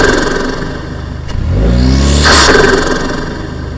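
A Lexus IS car engine with a turbo muffler delete idles, then revs up in one loud, raspy surge and falls back to idle, heard close by.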